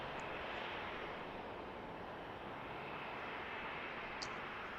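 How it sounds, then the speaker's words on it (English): Airplanes take off at San Jose airport, heard from a nearby lot as a faint, steady distant engine roar that holds evenly throughout with no talk. "We got some good views of planes taking off and banking around us."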